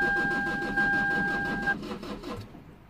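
A badly neglected Lexus IS220d diesel cranking but failing to start, its starter churning in a rapid even rhythm for over two seconds before cutting off, with a faint electronic tone alongside.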